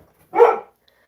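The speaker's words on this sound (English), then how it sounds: "I gotta let my dog out. She's been barking." A single dog lets out one short, loud bark, isolated against near silence before and after.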